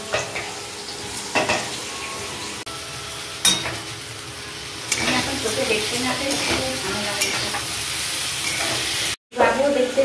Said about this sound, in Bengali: মিষ্টি আলু ভাজা হচ্ছে, আর এই যে এখানে ভাজা হচ্ছে